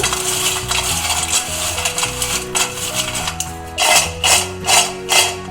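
Crispy fried pasta tossed with chili powder, salt and pepper gives a steady stream of dry rattling and clinking, building to several louder crunchy shakes toward the end.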